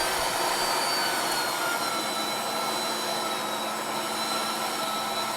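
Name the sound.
meat grinder grinding meat for sopressata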